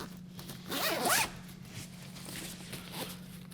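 A zipper on a Peak Design Travel Backpack 30L pulled open in one quick rasping run, close and fairly loud, followed by quieter handling rustle, with no talking.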